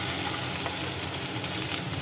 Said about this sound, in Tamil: இப்போ நம்ம கட் பண்ணி வச்சுருக்க வெண்டைக்காவை போட்டுக்கலாம்.